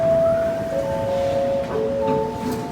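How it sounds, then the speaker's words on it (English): Steady station rumble with tonal whines and soft beeping chimes as Sydney Metro train doors open at Victoria Cross station, a moderately loud, continuous background without clear speech. "Train doors opening."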